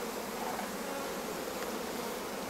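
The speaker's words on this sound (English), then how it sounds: "Bees all the way to the outside." Honey bees in a busy, heavy hive colony drone in a dense, continuous buzz, close and steady throughout with no voices.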